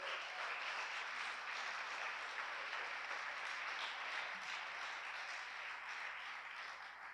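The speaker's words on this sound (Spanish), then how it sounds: "ayúdame a dar un aplauso al Señor." Worshippers at a Spanish-language church sermon give sustained applause to the Lord, an even, continuous roar of many hands clapping that holds at a moderate level for several seconds.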